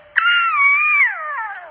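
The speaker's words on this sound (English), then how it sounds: "since they do it together, cubs will try to join in even when they aren't old enough to roar yet" A young lion cub lets out a high, wavering cry as it tries to join a pride's roar before it is old enough to roar, a single loud close call that slides down in pitch and fades.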